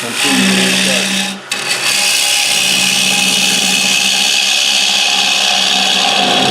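A wood lathe spins a square-edged bowl blank while a bowl gouge cuts it, giving a continuous loud rasping, scraping whir with a brief dip midway where the cut pauses, no talk over it.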